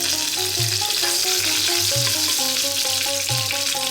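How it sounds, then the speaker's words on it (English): Fresh curry leaves hit hot oil and crackle loudly in a pan, a dense continuous sizzle and spitting hiss throughout, close and steady, with faint music underneath and no talk. "drop in our curry leaves, these fresh curry leaves, which can be quite noisy"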